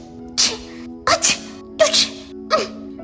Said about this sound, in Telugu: ఊరంతా తుమ్ముల మోత మోగుతోంది.